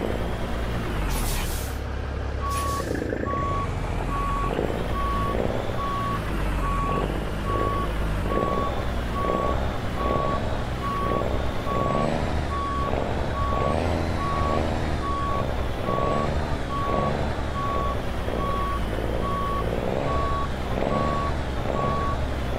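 A heavy truck backs up in American Truck Simulator, its steady reversing beeper pulsing at an even rhythm over a loud diesel engine rumble, with an air brake hiss near the start.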